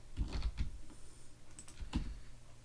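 Computer keyboard keys pressed during Blender modelling work, a few separate clicky taps in small clusters, close and clear with no talking.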